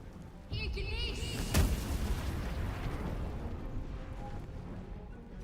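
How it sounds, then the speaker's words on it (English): Smoke powder detonates in Baldur's Gate 3 with a single sudden boom and crackling blast that fades into a long rumbling tail, preceded by a brief whistling game effect. "have her explode the smoke powder"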